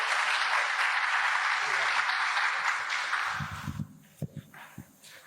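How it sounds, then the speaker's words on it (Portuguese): Congregation in a church service applauds loudly and steadily for several seconds, then the clapping thins out into a few scattered claps and knocks at the end. "Dê um forte aplauso ao Senhor."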